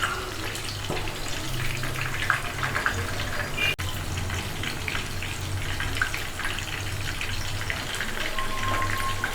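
Chicken 65 pieces deep-frying in oil over a low flame, a steady close bubbling sizzle with faint clinks, continuous and even throughout with no talking.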